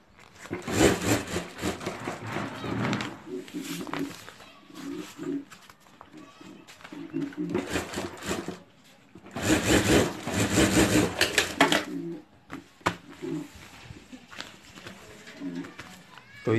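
A sewing machine stitches a homemade sling bag on both sides, running in bursts of rapid mechanical whirring and rhythmic needle clatter with pauses between them, under a voice talking throughout.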